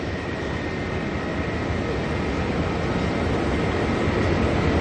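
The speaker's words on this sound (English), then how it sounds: "However, this here is an A330, and the cool thing about these is they are rocket ships." A Qantas Airbus A330 jet at Auckland Airport gives off a dense, steady, loud engine roar, a continuous broadband rumble with no pauses.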